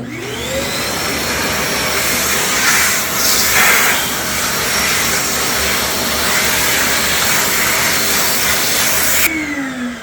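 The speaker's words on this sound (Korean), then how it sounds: "청소기를 먼저 진행을 할 거고" A vacuum cleaner runs steadily through an initial cleaning pass of a studio apartment, a loud continuous whine and airy rush close by, its pitch rising as it starts and dropping just before the end.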